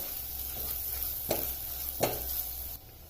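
Grated fresh coconut, in the pan for a jaggery and rice kheer, sautés with a soft, quiet sizzle, broken by two sharp spatula scrapes against the pan.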